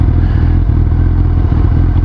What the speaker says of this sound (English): it's a very pleasant ride when it comes to the sound of the exhaust, the sound of the engine